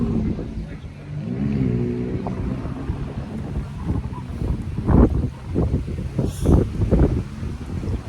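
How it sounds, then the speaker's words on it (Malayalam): Strong cold wind blowing at a beach buffets the microphone with rough low rumbling gusts that grow stronger toward the end, loud and close, with brief voices under it. "നല്ല കാറ്റുണ്ട്, നല്ല തണുപ്പുണ്ട്."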